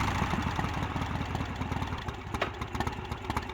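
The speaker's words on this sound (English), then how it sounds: "Motorcycle poggers." Motorcycle engine idling in the Gabriel Knight video game, a steady close low putter with a rapid even pulse, running alone without voices.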